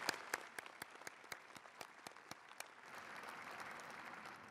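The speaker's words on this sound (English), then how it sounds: "Another round of applause for Dr." An audience applauds at a fall graduate commencement ceremony: early on, a few distinct sharp claps sound close by, then a wider crowd joins and the clapping swells into a continuous, fairly distant wash.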